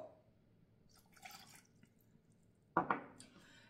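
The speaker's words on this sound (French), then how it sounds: "on y ajoute le sucre qui était prévu donc pour notre crème, l'eau" Sugar and water being added to a saucepan for a custard filling, with soft faint rustles followed by a short splashy pour near the end, quiet and close.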